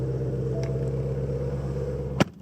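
Ford Mustang GT350 with its loud exhaust mode on, idling steadily up close with a deep rumble, then a short sharp burst near the end.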